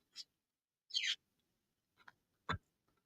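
A pet bird gives several short, separated chirps and calls indoors, each brief and fairly faint against near silence.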